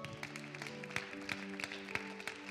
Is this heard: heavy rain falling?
no